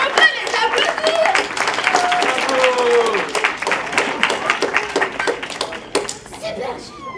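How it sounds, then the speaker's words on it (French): An audience claps for children at a Christmas show, a dense burst of applause that swells and then thins out over several seconds, with voices and a few bright tones mixed in. "on peut les applaudir"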